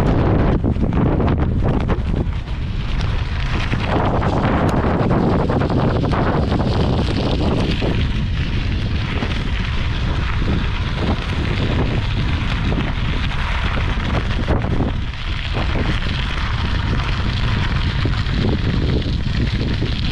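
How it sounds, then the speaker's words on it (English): Strong headwind buffets the microphone while riding downriver through a deep Idaho gorge, a loud continuous rumbling roar with gusty surges that never lets up, no talk. "Thought this was supposed to be downhill, going downriver, going into a headwind."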